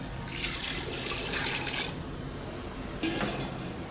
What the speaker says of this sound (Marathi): मसाला सगळा आपला छान भाजला आहे तर याच्यामध्ये घालायचं आहे पाणी